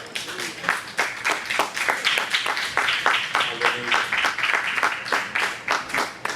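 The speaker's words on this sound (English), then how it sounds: "Can I get a hand clap of praise?" A church congregation at Perfect Shekinah Glory Church in Wilson, NC claps hands in praise, steady rhythmic clapping filling the room with voices calling out over it.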